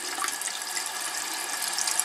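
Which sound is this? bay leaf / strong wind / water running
water running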